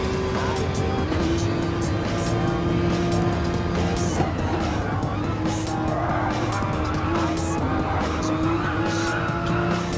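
Racing video game cars at the Nurburgring 24h skid and squeal as one goes off track, a constant engine drone with scattered tire screeches and scraping bursts, while a person talks over it.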